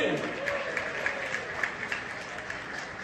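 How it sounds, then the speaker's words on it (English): Applause from guests at a community reception: steady crowd clapping at moderate level, with a brief voice at the start and individual claps standing out through the wash. "Biggest round of applause for each one of you"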